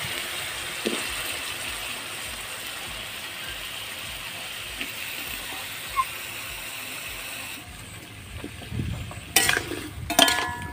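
Potatoes and pumpkin frying in a pan make a steady close sizzle with scraping stirs and a few clattering knocks of a spatula toward the end, without any talk.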